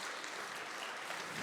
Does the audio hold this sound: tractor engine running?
no